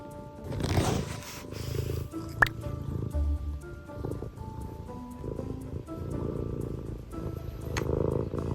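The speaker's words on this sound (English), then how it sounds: "He's purring." A soft, continuous low rumbling purr from a cat, fairly close, with small clicks and rustles over it.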